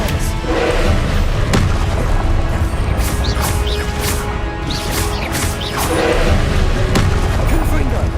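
Casting Expelliarmus in the video game Hogwarts Legacy: loud, dense combat effects with booming impacts and crashing thuds amid a constant rumbling din.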